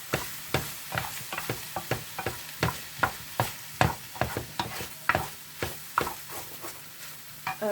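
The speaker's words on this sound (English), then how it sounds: "And the garlic will cook really fast. You don't want to overcook the garlic." Garlic sizzling in a hot pan, a steady frying hiss broken by regular sharp scrapes and taps of stirring, close and fairly loud with no talking.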